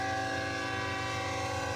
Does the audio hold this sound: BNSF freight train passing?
yes